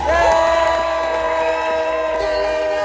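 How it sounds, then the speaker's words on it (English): An audience in a marquee cheers and whoops loudly to welcome a performer, with sustained high voices ringing together in a single swell that fades slightly toward the end. "Start a round of applause now."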